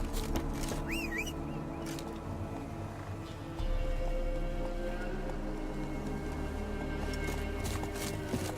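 The horse Roach galloping in The Witcher 3, a rhythmic thud of hooves that runs steadily under ambient outdoor sound, with a brief whinny near the start.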